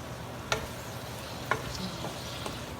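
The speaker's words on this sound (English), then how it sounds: "mixing all the sauce, stir them together" A spoon stirs a sesame sauce mixture of sesame seeds, apple cider vinegar and sesame oil in a bowl, giving a few soft scraping clinks spaced about a second apart over a low, steady background hiss.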